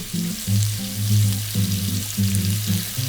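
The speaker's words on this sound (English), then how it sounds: "Add a little bit of olive oil. And dump the sausage." Sausage hits hot olive oil in a wok over high heat and fries with a loud, continuous sizzle, no voices over it.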